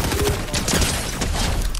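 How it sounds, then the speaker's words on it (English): Rapid gunfire in the Fortnite video game, a dense continuous burst of overlapping shots lasting the whole stretch, loud and close with no talk over it. "Yeah, I'm being shot at."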